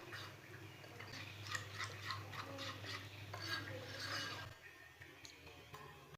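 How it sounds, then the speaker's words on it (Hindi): Rice flour mixed with water being stirred in a bowl, a steady close scraping and swishing with light clinks of a utensil, running continuously and then easing off near the end. "इसे अच्छी तरह मिक्स कर लेंगे।"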